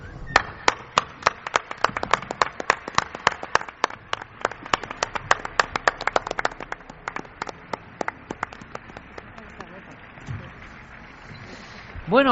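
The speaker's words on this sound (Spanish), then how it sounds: "quizá el último aplauso de la noche" A radio show's studio audience applauds, a dense burst of many hands clapping that carries on steadily for several seconds and then thins out and fades toward the end.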